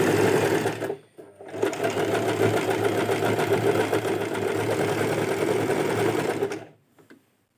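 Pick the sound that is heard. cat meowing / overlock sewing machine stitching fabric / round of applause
overlock sewing machine stitching fabric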